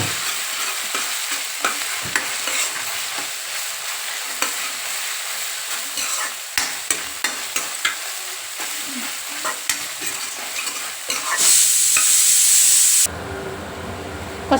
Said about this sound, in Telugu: ఉల్లిపాయ మంచిగా వేగినాక ఒక table spoon ginger garlic paste,